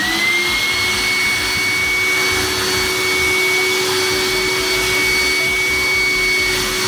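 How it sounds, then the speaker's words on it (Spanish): A Shop Vac vacuum cleaner runs at full power just after being switched on, a loud steady whooshing roar with a constant high motor whine, close and uninterrupted. "Preparamos nuestra aspiradora para que no quede mal, y ahora sí le damos al botón de encendido."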